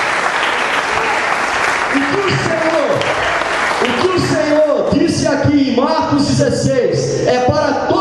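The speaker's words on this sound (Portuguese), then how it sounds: "a igreja poderia aplaudir o Senhor e celebrar" A church congregation at a pastor's consecration breaks into dense, close applause for a few seconds, then it thins as voices and singing rise over the fading claps.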